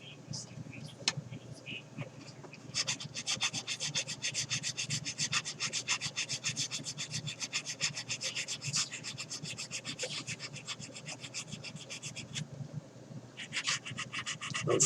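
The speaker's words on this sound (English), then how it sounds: "I'm sanding the outside edges of the stabilizer" A plastic part from a Trumpeter 1/32 scale A-10 Warthog model, the edge of a stabilizer, is sanded by hand in quick, rhythmic rasping strokes, close and fairly quiet, with a short pause partway through.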